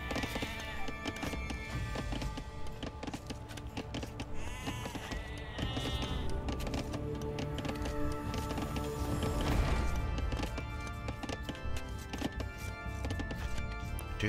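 Sheep bleat in the video game Age of Empires II, several wavering bleats rising over a busy in-game soundscape of music, hooves and chopping sounds, with no talking over them.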